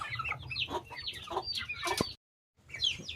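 Several chickens, including a grey hen, cluck and squawk nearby in short bursts while feeding, broken by a brief moment of silence before more clucking.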